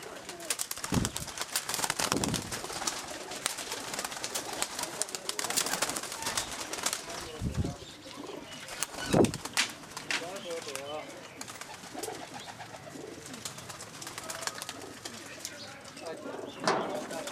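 Pigeons cooing in a breeding setup of paired birds, with soft repeated coos and occasional wing flaps close by, mixed with people talking throughout.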